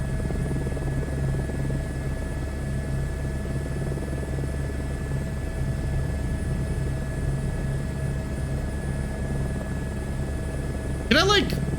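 A helicopter in Microsoft Flight Simulator 2024 drones with a steady rotor and engine hum that holds throughout, with a short burst of sound near the end.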